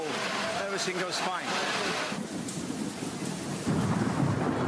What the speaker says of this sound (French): Un orage éclate, peu importe.